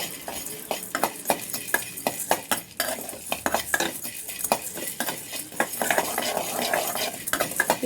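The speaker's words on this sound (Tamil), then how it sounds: "இப்போ வதக்கிக்கலாம். லைட்டாக வதங்கினா போதும்." Ingredients for prawn biryani being sautéed in a pan, with a steady light sizzle under rapid, repeated metallic clinks and scrapes of a spoon stirring against the pan, close and fairly loud.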